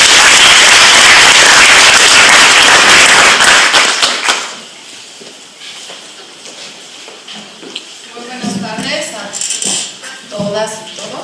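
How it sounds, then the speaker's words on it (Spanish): Audience applause for a doctor speaking at a Federal Judiciary event rises as loud, dense clapping, then fades into scattered claps and murmuring before speech begins. "Un aplauso para la doctora para empezar los trabajos"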